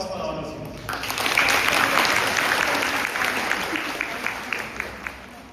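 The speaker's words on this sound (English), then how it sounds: "A huge round of applause for all of you" College students applaud in a hall, a broad wash of clapping that swells and holds, then tapers into scattered individual claps, with a voice speaking over it.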